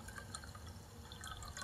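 Filtered Mountain Dew, flat and a little cloudy, pours from a pitcher into a glass as a faint, close trickle with small drips and splashes, heard alone.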